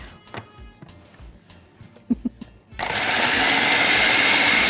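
A food processor grinding onion starts up after a few soft kitchen knocks and clatters, then runs as a steady, loud whirring motor to the end.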